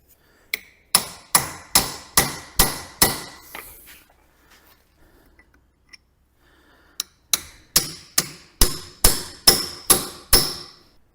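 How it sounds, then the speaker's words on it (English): Steady hammer blows on a chisel driving out an old kingpin from a Massey Ferguson tractor front axle: a run of about six sharp metallic strikes, a pause, then another rapid run of about eight loud, ringing hits. "that we can get a chisel in, something like that, to get the old one off."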